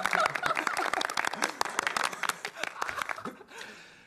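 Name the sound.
applause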